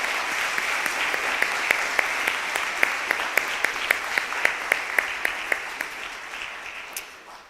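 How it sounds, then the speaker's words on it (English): An indoor audience at a community awards evening applauding, a sustained wash of clapping with a few sharper individual claps standing out, fairly loud and fading toward the end. "So help me give a big round of applause to all our Shem Tov."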